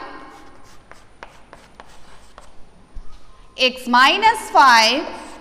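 A teacher writes a math equation on a board, producing close taps and short scratching strokes; partway through, a voice starts speaking over it.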